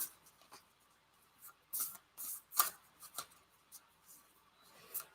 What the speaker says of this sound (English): I'm going to continue to shuffle the cards